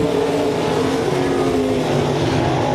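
305 sprint cars race around the dirt oval at RPM Speedway, their engines droning in a loud, continuous, overlapping roar with steady pitch and no breaks.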